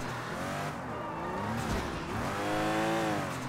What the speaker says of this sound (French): Et on va y aller en voiture.